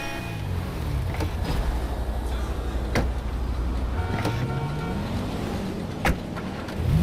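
The Pegasus Infernus supercar in GTA V drives with a steady engine drone whose pitch rises and falls as it revs. Sharp clacks and bumps cut in at intervals.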